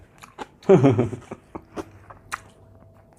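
Someone eating Thai rice noodles in fish and coconut curry: a loud crunchy bite near the start followed by softer chewing and slurping sounds, close up and without speech.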